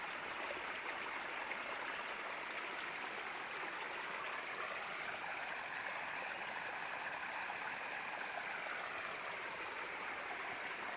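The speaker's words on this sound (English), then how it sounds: "There is a small river flowing here." A small river flows with a steady, even rushing and gurgling that stays constant throughout, fairly soft and alone without any voices.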